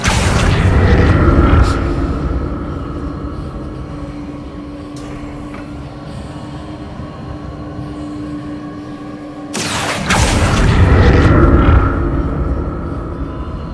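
Accio summoning spell effect in Hogwarts Legacy: a deep, booming rumble that fades to a low drone, then a sudden loud burst and heavy rumbling surge near the end.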